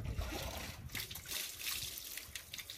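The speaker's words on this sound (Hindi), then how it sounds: "ये देखो भाई ठंडे पानी से नहला रहे गाइस" Cold water poured over a dog during a bath, a steady, fairly faint trickle and splatter that runs throughout without any talking.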